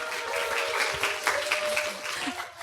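A live audience at a public radio broadcast cheers and claps, a bright, continuous wash of applause and shouts rising and falling over a few seconds.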